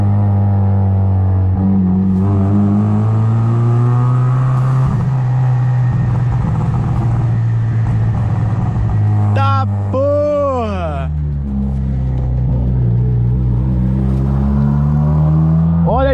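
A Fiat Uno accelerates hard through a small tunnel, its engine roaring loud and close with rising revs and a booming echo, with a sharp whine sweeping up and down mid-pass before it settles into a heavy rumble.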